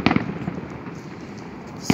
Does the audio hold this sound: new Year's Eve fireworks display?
yes